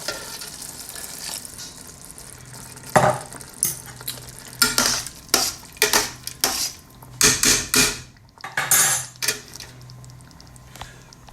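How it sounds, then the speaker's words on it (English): Boiling water poured into a simmering bolognese sauce hisses and sizzles in a pan in irregular bursts, with clinks and clatter of a pot and utensils nearby. "I'm just going to add 1 cup of boiling hot water"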